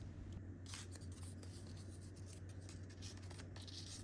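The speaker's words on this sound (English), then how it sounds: "As you roll the beads" Continuous soft rubbing and scratching of hand-painted paper beads being rolled by hand, close and quiet, with a few brighter crinkly bursts over a low steady hum.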